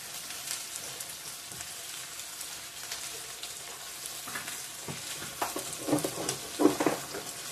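Ground cumin, coriander and chili powder sizzling in hot oil in a pan, a steady close crackle and hiss with brief louder spatters and stirring scrapes near the end.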